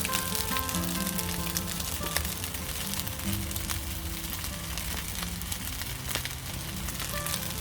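Prawns going into cold fried rice in a pan, giving a dense, continuous loud sizzle that hisses steadily throughout at close range, with faint clinks over it and no talk.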